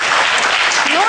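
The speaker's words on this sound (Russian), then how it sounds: "Ваши аплодисменты, друзья." Concert hall audience applauding after a dance number, a dense, loud burst of clapping that fills the brief moment, with a voice rising briefly over it toward the end.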